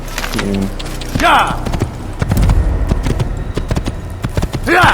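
Horse hooves clip-clop in the Assassin's Creed video game, a steady rhythmic trotting that is close and clear, running under intermittent game sounds and some talk.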